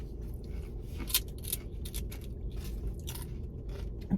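Crunchy nachos being bitten and chewed up close, with sharp irregular crunches spaced through a quiet background and no talking.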